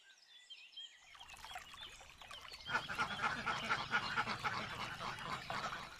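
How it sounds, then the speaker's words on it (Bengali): Ducks and chickens wander around a cartoon home yard, with quacking and clucking chatter building from a quiet start into a busy, continuous flock noise. "হাঁস মুরগিগুলো বাড়িময় ঘুরে বেড়াচ্ছে"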